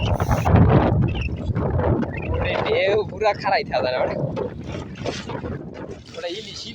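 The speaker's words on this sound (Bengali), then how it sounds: "আজকে নদীতে এত পরিমাণে বাতাস আমারই দাঁড়ায় থাকতে অনেক কষ্ট হয়ে যেতেছে" Strong wind roars steadily over a river beside a small fishing boat hauling nets in rough, wavy water, with a voice talking over the continuous gusty rumble.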